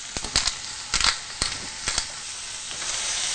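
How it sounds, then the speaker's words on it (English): Fennel and onion fry in olive oil in a hot pan, a steady close sizzle with sharp crackling bursts as the vegetables are stirred, no voices. "put some olive oil in a hot pan and throw in our fennel and our onion"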